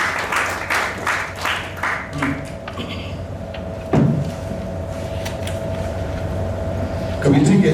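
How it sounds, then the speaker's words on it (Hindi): Audience applause at a book release event: several rapid bursts of clapping open the clip, followed by a quieter hall with a few scattered claps and background murmur. "ताली।"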